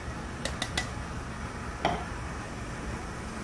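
Plums and strawberries are tipped into a bowl: a few quick clinks and soft knocks around the start, then one more clatter, all set against a steady low background hum.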